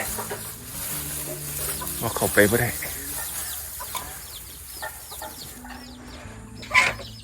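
Bantam chickens cluck softly nearby in short bursts in a rice field on a rainy morning, with someone talking over them and a louder squawk near the end.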